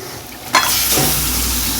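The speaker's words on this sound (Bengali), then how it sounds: "এইবার মাছের পিসগুলোকে আমি কড়াইয়ের মধ্যে দিয়ে দিচ্ছি" Salted, turmeric-rubbed lotte fish pieces drop into hot oil in a wok and break into a loud, sudden sizzle that settles into a steady, close frying hiss.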